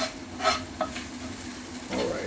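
A spoon stirs scrambled eggs with cheese and turkey in a hot pan, scraping and soft sizzling in short bursts close by, with a steady frying hiss underneath.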